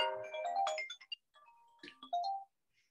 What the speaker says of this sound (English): That was my phone, unfortunately.